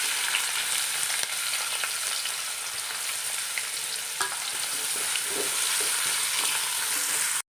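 About 300 grams of washed, sliced ginger sizzles steadily in hot coconut oil, a dense, continuous crackle that holds level throughout, with occasional stirring scrapes and no talking.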